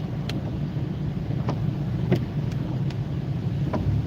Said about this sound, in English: And there's a car coming out in front of the Jeep